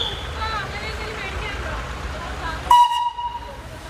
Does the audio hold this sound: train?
yes